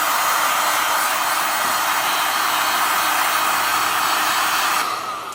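A heat gun blows hot air steadily onto a snowmobile vinyl wrap, a loud, even rushing whoosh held close for about five seconds before it cuts off abruptly.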